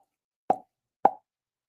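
Two separate mouth pops, spaced about half a second apart, imitate a champagne cork popping; each is short, close and dry, with silence around them.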